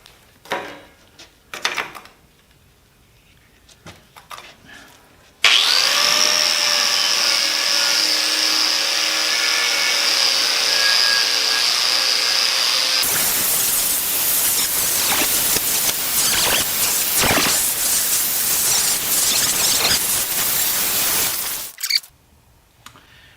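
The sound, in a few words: wire wheel and magnetic drill boring holes in rusty steel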